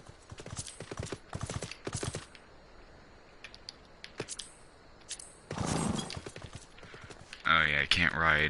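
Hoofbeats of a mount in Final Fantasy XIV on PS4, irregular clip-clop thuds in short clusters under a player's talk, ending in a bright shimmering game sound.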